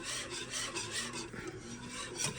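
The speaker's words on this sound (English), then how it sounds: "I'm going to whisk this all in." Whisk scraping and rasping steadily through barbecue sauce in a pot over medium heat, a continuous close rubbing texture with no talk.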